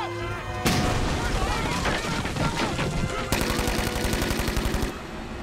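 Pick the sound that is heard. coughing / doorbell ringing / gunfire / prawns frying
gunfire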